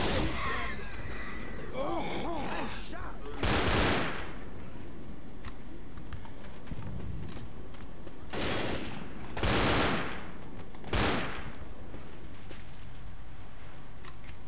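Bursts of gunfire from Left 4 Dead 2 at the Truck Depot finale, with broadband shot volleys around a few seconds apart, loud and close over a constant background game din.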